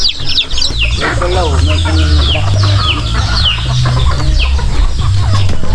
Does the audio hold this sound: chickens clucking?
yes